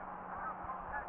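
Geese honk in a brief, faint chorus of overlapping calls heard from a distance.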